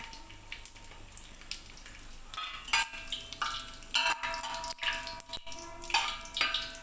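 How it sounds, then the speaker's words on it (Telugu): Whole garam masala spices crackle and sizzle in hot oil for biryani, a steady close frying hiss with small pops and stirring clinks throughout. "ఆయిల్ హీట్ అయిన తర్వాత హోల్ గరం మసాలాలన్నీ యాడ్ చేసుకోవాలి ఈ ఆయిల్లోకి."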